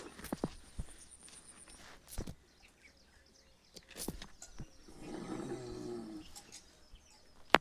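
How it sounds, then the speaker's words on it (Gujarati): Buffaloes walk slowly up a slope on a hillside track, their scattered hoof steps close by and soft, with a low rumbling stretch near the end and a sharp click at the close. "તો ભેહું હાલી આવે છે ધીરે ધીરે."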